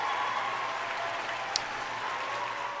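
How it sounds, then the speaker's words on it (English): An audience gives a round of applause, a soft, steady wash of clapping that sounds distant and holds evenly throughout, with one brief sharp tick partway through. "Let's give you another round of applause"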